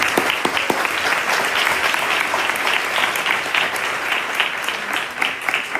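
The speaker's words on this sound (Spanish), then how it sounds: "a quienes les voy a pedir un aplauso para todos ellos" Sustained applause from a large audience, dense and steady clapping filling the whole stretch without letting up.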